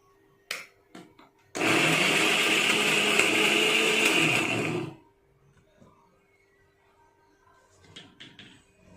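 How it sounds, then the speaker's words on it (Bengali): An electric blender grinds fried spices into a paste, a loud close whirring roar for about three seconds after a few clicks, then stopping into quiet with faint handling knocks. "ভাজা মশলাটা সুন্দর করে পেস্ট করে নেব"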